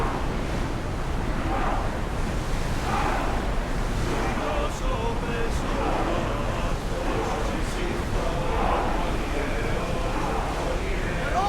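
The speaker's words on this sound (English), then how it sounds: "Feel that wind!" Wind and ocean surf while sailing a ship in the game Assassin's Creed Odyssey: steady wind rush with waves washing in repeated surges, and talk mixed in over the top.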